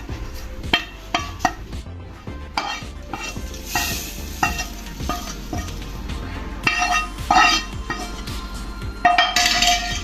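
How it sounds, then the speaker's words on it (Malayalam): Kerala-style sambar masala is stirred into cut vegetables in a pan, with repeated close scraping and clinking of a spoon against metal over a light sizzle, in irregular bursts and without speech. "നമുക്ക് നന്നായിട്ടൊന്ന് മിക്സ് ചെയ്തെടുക്കാം"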